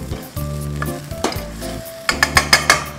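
Tomato and shallots frying in oil for seafood tom yum fried rice: loud, close sizzling with a low hum beneath, ending in a quick burst of spatula scrapes against the pan.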